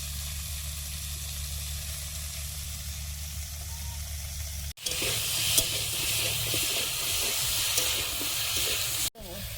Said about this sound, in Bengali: ফুলকপি আলুটা ভালোভাবে ভেজে নিয়েছি